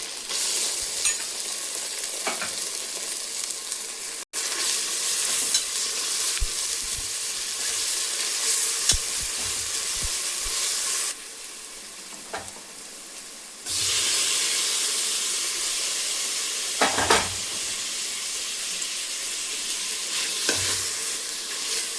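Onions browning with ginger-garlic paste sauté in a pan for mutton curry, a steady close sizzle and hiss running throughout with occasional spoon stirs and scrapes, no talking.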